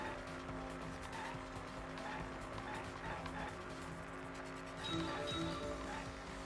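Engine drone and tyre squeal from a car driving in the video game Danganronpa V3, a steady mechanical roar with sharper skidding bursts near the end, loud and continuous with no talk.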